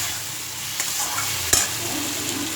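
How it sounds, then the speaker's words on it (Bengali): Small mourola fish with turmeric and green chillies being stirred in a pan, a soft steady sizzle with a couple of sharp scraping knocks of the utensil against the pan. "মিশিয়ে নিয়েছি আমি ভালো করে"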